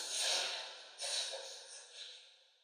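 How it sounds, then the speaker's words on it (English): Soft, close sniffling from someone with a runny nose: a few breathy nasal sniffs in quick succession, fading toward the end, with no talking. "I hope the sniffling and stuff is not distracting to you."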